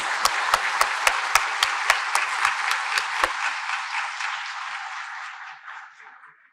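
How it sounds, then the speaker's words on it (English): An audience at an Indian Founder's Day celebration gives a round of applause, sharp accented claps at the start settling into sustained dense clapping that fades away over several seconds. "Huge round of applause, please."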